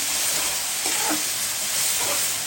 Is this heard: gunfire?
no